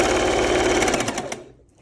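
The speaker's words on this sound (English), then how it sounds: "So straight stitching all this" Sewing machine running a fast straight stitch across the front of a fabric scrub cap, a loud, close, continuous mechanical whir that slows and cuts off near the end.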